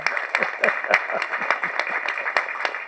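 A hall audience breaks into applause during a speech, many hands clapping close and loud, with sharp individual claps standing out from the crowd's steady roar.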